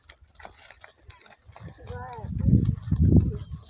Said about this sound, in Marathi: गायाच गाया